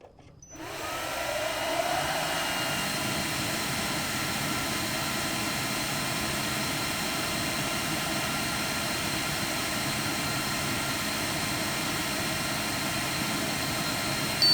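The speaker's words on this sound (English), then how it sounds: "then we're going to laser cut it out" A laser cutter cuts a cardboard template for a custom e-bike trailer bracket, a steady, close, unbroken whirring hum that starts abruptly and holds at an even loudness throughout.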